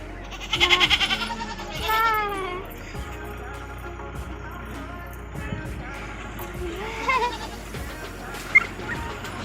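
Goats in a village bleat in a short nearby burst of wavering cries, then quieter bleats follow amid faint outdoor background sounds.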